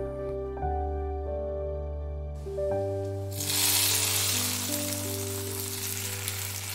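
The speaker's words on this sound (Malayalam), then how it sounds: "വെളിച്ചെണ്ണ നന്നായിട്ട് ചൂടായിട്ട് വരുമ്പോൾ 1 സ്പൂൺ കടുകും 2-3 വറ്റൽമുളകും 1 തണ്ട് വേപ്പിലയും കൂടിയും ചേർത്ത് കൊടുക്കാം." Mustard seeds, dried red chillies and curry leaves drop into hot coconut oil. Steady tones play at first, then a loud, close, continuous crackling sizzle takes over and keeps going.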